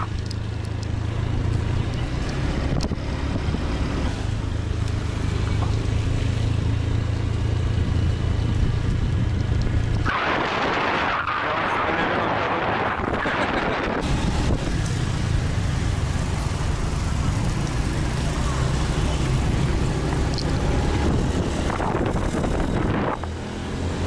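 A 150cc TCX motorcycle engine pulls uphill on a road in Pattaya, Thailand, a steady close drone under heavy wind buffeting, with a stretch where rushing wind nearly swamps the motor.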